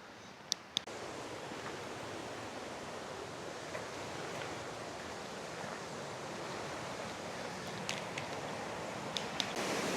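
Steady broadband rush of a waterfall along a forest eco-trail, heard from close by as a continuous, even roar with a few faint high clicks and no talk.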